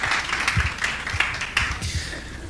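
A church congregation claps during an evening service, a scattered, uneven patter of hands that comes in loose bursts rather than a steady ovation, moderately distant and fairly quiet.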